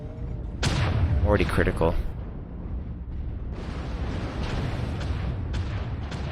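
Gunfire and explosive impacts hit a slow-turning mech from behind in MechWarrior Online, a chaotic barrage of booms and rumbling hits under a player's brief speech.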